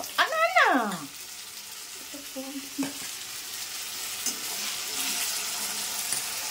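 Ginger, garlic and onion paste frying in a pan gives a low, continuous sizzle, broken by a few scraping stirs and clinks near the start.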